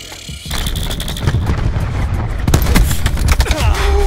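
Gunfire from a video game, with a burst of sharp shots and booming reports, loud and close, firing repeatedly over a dense, noisy game background.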